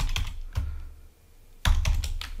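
Quick bursts of typing on a computer keyboard, clustered clacks broken by a brief pause before a denser flurry of keystrokes, close and clear with no talking.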